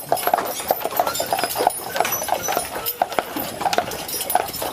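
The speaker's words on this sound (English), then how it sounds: "driving a horse-drawn buggy" Horse hooves pulling a carriage tour buggy on Mackinac Island clip-clop in a steady, brisk rhythm on a hard road, close by and continuous, with faint rattling of the buggy behind.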